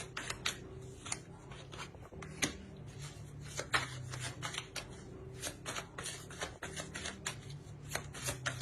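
Tarot cards riffled and snapped close by in a quiet room, a dense run of quick papery flicks and taps with a steady low hum underneath.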